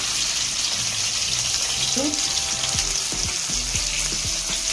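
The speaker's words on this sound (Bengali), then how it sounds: "তেল গরম হয়ে গেছে এবার ঢেঁড়সগুলো আমি দিয়ে দেবো" Okra fries in hot oil in a wok with a steady, loud hiss, and a few scrapes and knocks of a utensil sound against the pan.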